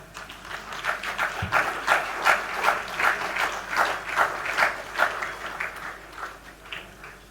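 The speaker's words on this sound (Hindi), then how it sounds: "कृपया ताली बजाते रहें।" A crowd at a youth retreat thanksgiving ceremony at St. Xavier's College applauds continuously, a steady rhythmic patter of many hands that swells and stays even for several seconds, moderately loud and without speech.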